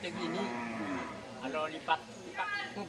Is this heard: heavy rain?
no